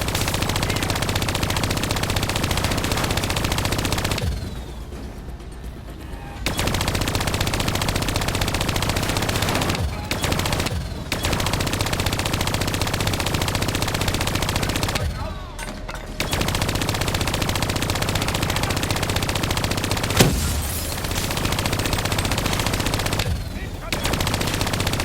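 Sustained automatic turret gunfire in the Black Ops III "New World" campaign, loud and continuous, with a few short pauses between long bursts and faint voices mixed under the shooting.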